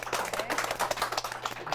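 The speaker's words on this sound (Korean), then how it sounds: "아주 우리 한번 박수로 해주시죠." A room full of people at a book forum event clapping, a steady patter of applause at moderate volume.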